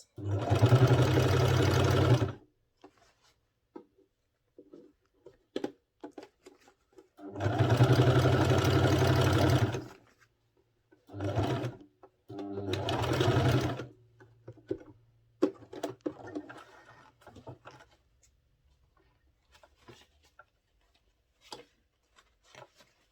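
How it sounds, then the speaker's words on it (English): An electric sewing machine stitches the placket of a men's senator wear outfit in two long steady runs of loud whirring, separated by short pauses, quiet handling clicks and brief bursts of stitching. "So now gradually just sew it."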